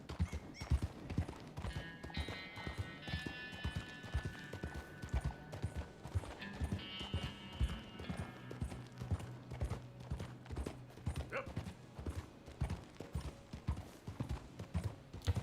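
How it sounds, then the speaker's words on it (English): Horse hooves clop in a fast, steady galloping rhythm in Red Dead Redemption 2, fairly faint, with a brief horse whinny partway through. "Perhaps I should slow the horse down a little bit."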